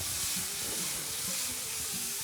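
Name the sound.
mushrooms sizzling as they fry in a pan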